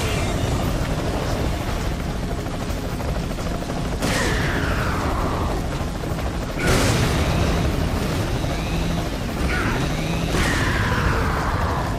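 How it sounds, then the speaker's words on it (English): A grenade blast in Resident Evil 4's Mercenaries mode, booming through dense, loud game combat with several sharp impacts and a swelling noise burst partway through. "I'm actually gonna toss a nade here."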